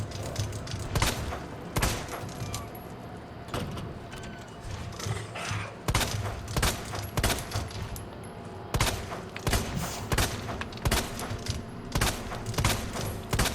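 Gunshots in the video game Resident Evil 2 Remake as Leon Kennedy fires at a zombie, a series of loud single shots spaced about a second or two apart over a dense ambient background.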